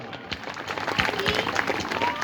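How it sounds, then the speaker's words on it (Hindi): An audience at a National Youth Day school event gives a burst of hearty applause: loose, uneven clapping close by, with some voices mixed in, sustained for a couple of seconds. "उनके लिए भी एक बार जोरदार ताली"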